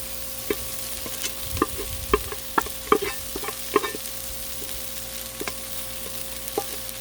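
Chicken fried rice sizzles on a Blackstone flat-top griddle while a spatula scrapes and taps through it in an irregular rhythm, with a steady hiss underneath, close and moderately loud with no voices.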